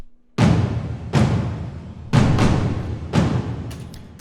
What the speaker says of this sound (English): So the toms here sound like this by themselves.